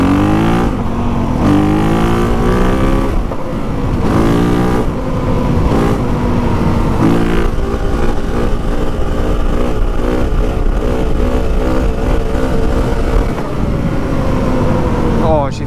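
A newly bought dirt bike's engine runs loud and close, its pitch climbing and dropping through repeated revs and smooth throttle changes, with a voice speaking over it.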